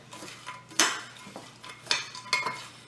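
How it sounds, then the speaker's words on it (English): A spoon mixing cookie crumbs for a no-bake pie crust, giving soft scraping and a few sharper clinks against the bowl, close and quiet with no talking. "you just want to take your spoon and kind of mix it in really good"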